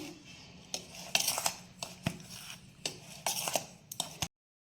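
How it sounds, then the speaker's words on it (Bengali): A spoon scrapes and clinks against a bowl while baking powder and soda are mixed into a chocolate biscuit cake batter, irregular bursts of stirring and tapping at close range with quiet pauses between them. "তো এটা আমি এখন ভালো করে মিশিয়ে নিচ্ছি"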